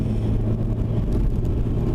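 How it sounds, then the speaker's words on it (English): Road traffic in a town, heard from a moving car: a steady, fairly loud engine and tire rumble with passing vehicles blending into a continuous low drone and no talking. "Getting a little bit of traffic."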